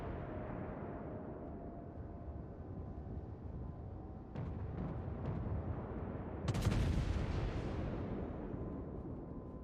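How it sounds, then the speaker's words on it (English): Naval gunfire in a warship combat game, with muffled distant shots under a steady rumble, a few sharp cracks near the middle, and a louder booming burst toward the end. "Everybody's just shooting at random."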